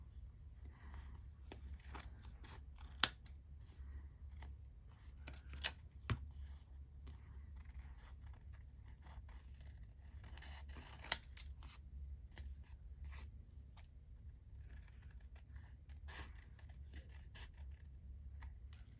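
Scissors cut through card for Easter craft tags, giving faint scattered snips and a few sharp clicks over quiet room hum.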